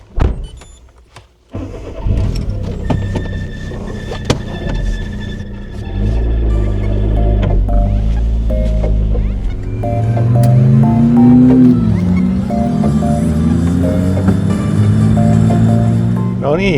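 Combustion-engine car starting up and pulling away, a clunk and crank followed by the motor settling into a rising, droning hum that grows steadier and louder; a voice speaks briefly near the start.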